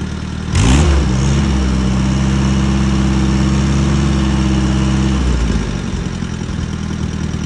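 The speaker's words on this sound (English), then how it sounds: "I think we have a good running tractor again." An Allis-Chalmers D-14 tractor engine starts with a loud burst, then runs steadily at a low, throbbing idle for several seconds before the note drops and settles.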